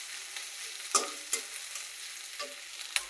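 Spice paste frying in a pan for chicken curry, a steady soft sizzle broken by a few sharp scrapes and knocks as it is stirred, close and fairly quiet.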